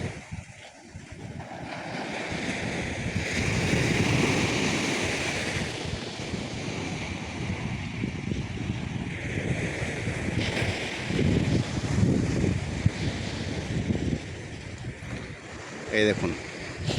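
Sea waves crashing and washing in repeatedly at Kargil Sea Beach near Bakkhali under gusty wind buffeting the microphone, with a voice talking intermittently over the surf.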